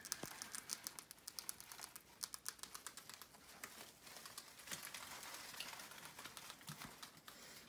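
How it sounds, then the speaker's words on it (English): Small, rapid crunching and crackling clicks go on steadily throughout, faint and close, as pet rats chew crunchy food in a cage with wood shavings. "Everybody up here is just eating away. I don't know what Decker has. Sounds like something crunchy"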